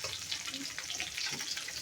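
Fish frying in hot oil in a village kitchen, a dense continuous sizzle and crackle with bright spattering, steady and close throughout.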